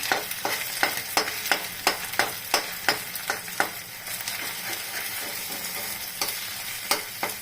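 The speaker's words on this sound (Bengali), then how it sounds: "এই যে ডিমটা এখন ফুলকপির সাথে পুরো মিশিয়ে দিলাম" Cauliflower and egg bhujia frying in oil, stirred with a utensil that scrapes the pan in a regular rhythm of sharp strokes over a constant close sizzle, the strokes pausing midway before a few more.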